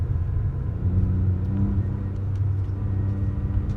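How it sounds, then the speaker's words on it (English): An E46 BMW track car with an open differential powering out of a corner, engine rumbling steadily at close range while the inside tire spins, with no talk over it. "you probably will hear the open diff spin the inside tire as he tries to power out of a corner"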